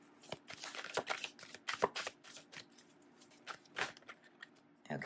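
A deck of tarot cards is shuffled by hand, giving soft, close riffling and flicking bursts in an irregular rhythm, quiet and with no speech.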